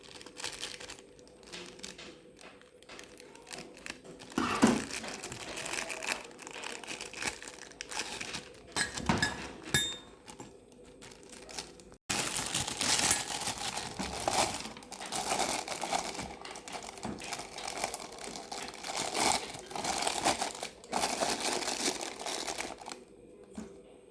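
A plastic piping bag fitted with a 1M nozzle and being filled with butter cream: continuous close crinkling and crumpling, loud and busy, with a brief pause midway before the rustling resumes at full strength.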